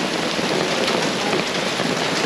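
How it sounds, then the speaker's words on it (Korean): Sudden hail pelting down in Timișoara, Romania, after a hot day: a dense, loud, steady hiss of countless small impacts with no break, no voices heard. "갑자기 비가 오는데 비가 아니고 우박이야."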